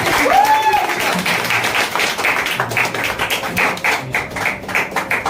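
An open-mic poetry crowd claps for the next performer, a scattered and uneven round of hand claps with a brief whistle-like tone near the start, the clapping thinning out toward the end.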